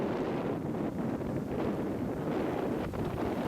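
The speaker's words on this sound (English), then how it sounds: "it's gone from very peaceful and calm to starting to become pretty windy" Squall wind blowing over Biscayne Bay near Boca Chita Key, Miami, a steady broad roar with gusty buffeting on the microphone, no voices.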